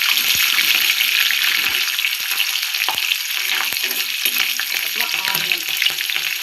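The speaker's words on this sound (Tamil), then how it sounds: "பச்சை மிளகாய் போட்டால் எண்ணெயில் கொஞ்சம் வதக்கணும்" Green chillies sizzle and fry in hot oil in a pan, a steady loud crackle with scattered pops and occasional stirring scrapes, no voices.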